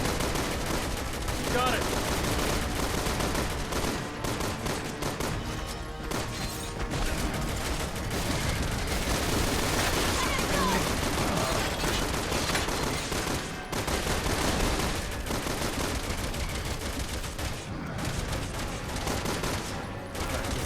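Dense, continuous gunfire in the video game Resident Evil 6, rapid shots layered over game sounds and music, loud throughout, with a player briefly speaking over it.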